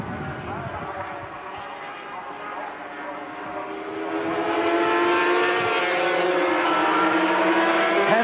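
250cc racing motorcycle engines scream at high revs while cornering, rising and changing pitch as they pass, loud and continuous with no clear talk.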